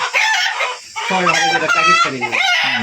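A rooster crows loudly over a busy chorus of clucking Fayoumi chickens on a village farm, with several overlapping calls close by.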